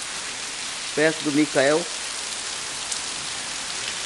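Steady rain hissing over surfaces in a neighbourhood of Guajará-Mirim, Rondônia, a dense even patter throughout, with a brief spoken phrase near the start.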